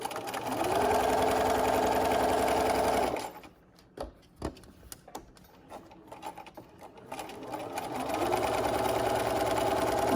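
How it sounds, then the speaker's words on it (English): A home sewing machine stitches a fabric pet bandana, whirring steadily and close for about three seconds, going quiet with a few clicks and handling noises, then starting up again near the end. "I'm going to start sewing because I have it lined up"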